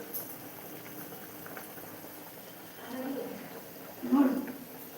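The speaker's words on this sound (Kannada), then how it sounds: "ಪಾಳ್ ಪಾಳ್ ಪಾಳ್ ಪಾಳ್ ಹೆಂಗ್ ಕುದಿತೈತಿ" Chicken curry bubbling as it boils in a pot, a soft steady simmer with a louder burst of bubbling near the end, faint and close.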